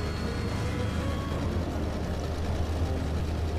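A car engine in the Alan Wake video game rumbles low and steady, a continuous heavy drone without breaks or talk.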